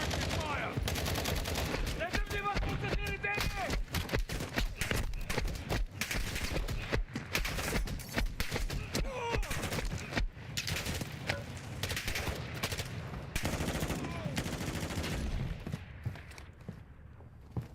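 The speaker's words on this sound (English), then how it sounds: "Taking effective fire!" Rapid gunfire rattles almost nonstop in a Black Ops 6 multiplayer match, dense bursts of automatic shots with brief gaps, loud and close, with game effects mixed underneath.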